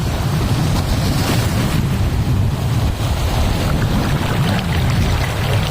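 Ocean waves surging onto a rocky shore and draining into a hollow, a loud continuous wash and rumble up close, heavy wind buffeting throughout with no speech.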